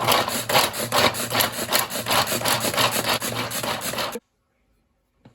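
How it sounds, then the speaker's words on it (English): Garlic cloves chopped in a hand-operated pull-cord chopper, giving a run of loud, rhythmic grinding and rasping bursts close by for about four seconds, then stopping abruptly into near silence. "I'll give this a couple of pulls to chop my garlic."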